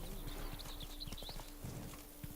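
Roach, a horse in The Witcher 3: Blood and Wine, trots with steady clip-clopping hooves, the rhythmic hoof beats close and clear over a constant outdoor ambience.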